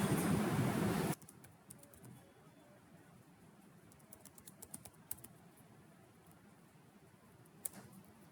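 Soft, scattered keyboard typing clicks, faint and irregular, after a brief loud burst of noise at the very start.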